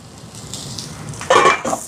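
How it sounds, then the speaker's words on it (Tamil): Onions sautéing in a pan for Jaffna-style chicken puttu kottu sizzle steadily, then a loud metallic scrape and clink of a spoon against the pan near the end. "இதில் பாருங்க வெங்காயம் நல்லா வதங்குது"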